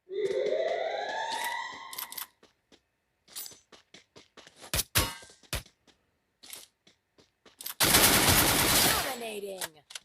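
Gunfire in the mobile shooter Free Fire: bursts of sharp shots and a long rattling volley near the end, mixed with rising electronic game tones and clicks, loud and close.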